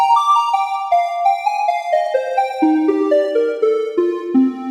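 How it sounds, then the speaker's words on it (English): Two stacked triangle-wave synthesizer tones play together in a descending melodic run, bright and slightly buzzy, with no voices. "listen to the triangle stacked on top."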